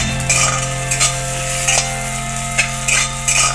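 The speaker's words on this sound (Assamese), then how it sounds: "আলুখিনি ভাজা হৈয়ে গ'ল মোৰ ধুনীয়াকৈ।" Potatoes sizzle loudly in oil in a pan while being fried for a fish curry, with a steady close crackle broken by regular scrapes and stirs of a spatula.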